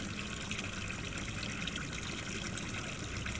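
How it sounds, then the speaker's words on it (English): A stream of water trickles steadily in a rendered outdoor nature scene, a continuous broadband wash of flowing liquid at moderate distance with no voices. "we start by adding in the sounds of individual elements within the scene. For example, this water stream."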